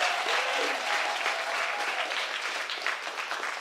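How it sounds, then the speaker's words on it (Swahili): A church congregation at a Sunday service claps steadily in dense, sustained applause that fills the room, loud and continuous throughout with no pauses. "Mshangilie Mungu kwa makofi."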